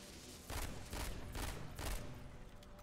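Gunfire in the video game MW3 Zombies: three loud bursts of rapid shots in quick succession over a steady background of game noise, with no talking.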